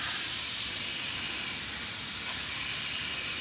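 A sprayer pumps insecticide across garden plants in a continuous loud hiss, close and even in level from start to finish, with no voices.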